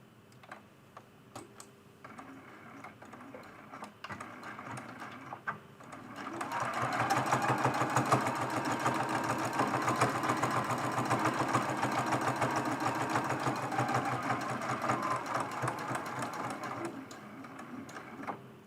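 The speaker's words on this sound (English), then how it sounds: "I'm going to stitch this seam" Close sewing machine stitching a seam on a quilted mug rug, a few slow needle clicks building into a steady whirring run that slows and stops near the end.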